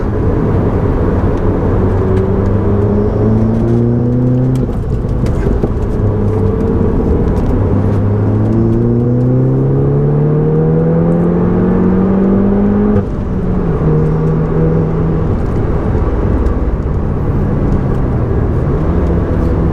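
A Clubsport S race car laps the Nürburgring GP circuit, its loud in-cabin engine droning and climbing through repeated rising gear sweeps, dropping briefly at shifts, continuous and close throughout.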